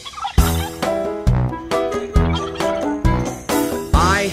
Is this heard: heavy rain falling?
no